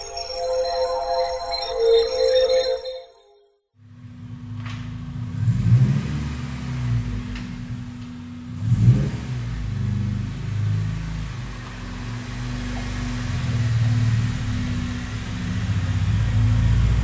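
Honda Civic EP3 Type R on a dyno: after a brief cutoff, the engine settles into a close, loud, steady drone with a couple of swells in revs, holding a continuous rumble to the end.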